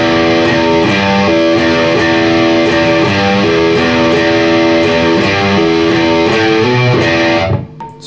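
A distorted electric guitar plays a fast galloping riff, the repeated picked notes loud and continuous before cutting off abruptly near the end.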